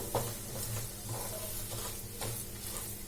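Roasted lentils being sautéed in ghee for a homemade sweet, a soft steady sizzle with a few scraping stirs of a spoon against the pan, close and fairly quiet.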